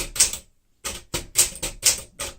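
A 1964 Smith-Corona Sterling manual typewriter types a vertical alignment test, giving loud, close, sharp key strikes in an uneven rhythm. A short pause follows the first strike, then five more hits come in quick succession.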